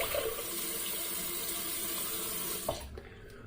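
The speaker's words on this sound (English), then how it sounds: "So cold water rinse." Cold water runs steadily from a tap into a sink to rinse a razor, close and continuous before cutting off near the end.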